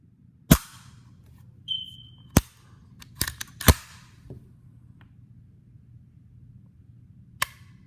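Sharp metallic clicks from a Sig Sauer P220 pistol being dry-fired and reset, several isolated snaps spaced irregularly, one quick cluster in the middle, all close and crisp against a quiet hum.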